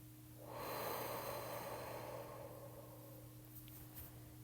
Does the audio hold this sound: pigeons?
no